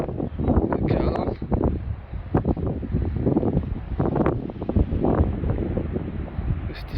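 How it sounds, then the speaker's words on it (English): Strong wind buffets the microphone on a tidal River Trent bank during a barbel fishing session, a steady loud roar with rough gusts swelling and easing throughout. "it's very windy"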